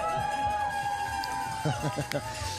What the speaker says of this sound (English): Fans cheering everybody.